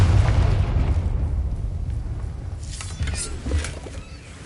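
A Confringo blasting spell goes off in Hogwarts Legacy as a loud, rumbling explosion with a heavy low-end boom that slowly fades, followed by a few sharper crackling bursts.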